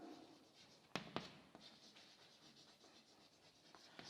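Pen writing on paper as a faint, continuous scratchy rustle with a few sharper strokes near the beginning, quiet and without talk.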